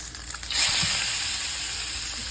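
A salmon fillet flipped in a hot frying pan sets off a sudden loud sizzle that holds steady, a close, bright hiss with no voices.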